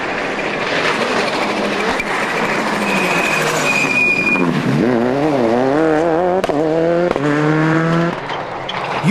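A rally car drives hard on slippery, changeable roads during the Circuit of Ireland Rally, its engine loud and sustained with rising and falling revs as it powers through gear changes.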